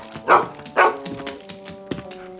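A dog in a video game gives two quick sharp barks, followed by a few softer yips and snuffles over light background music.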